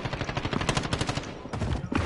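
Rapid automatic gunfire in a Modern Warfare search-and-destroy match, a quick string of close, sharp shots with a brief pause before a final burst, fairly quiet overall.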